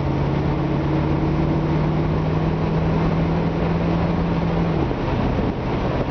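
A 1977 Chevrolet Corvette engine idling steadily and loudly close by, a constant low droning rumble with a sustained hum that shifts slightly near the end.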